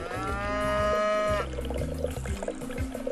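A cow in the Ngorongoro area of Africa gives one long, loud, close moo lasting over a second, then quieter low grunts and shuffling follow.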